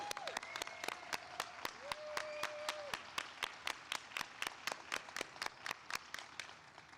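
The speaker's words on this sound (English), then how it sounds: "How about one more big round of applause for all of our graduates of the IO Master's Program." Audience applause for graduates at the close of a psychology master's hooding ceremony, a steady round of many hands clapping that fills the whole stretch, with a brief voice-like tone early on.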